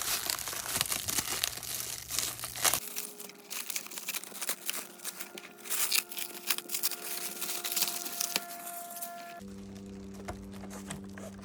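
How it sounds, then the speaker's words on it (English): Protective plastic film being peeled off the body of a Traxxas TRX4M micro crawler, giving faint, continuous crinkling and soft tearing close up, with a low hum in parts. "this is definitely one of my favorite parts about getting a new rig is peeling that plastic off"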